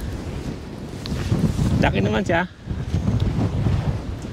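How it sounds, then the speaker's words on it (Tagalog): Strong wind buffets the microphone on a pier, a continuous loud rushing roar with gusts, as someone speaks briefly partway through. "Kaya sobrang lakas ng hangin."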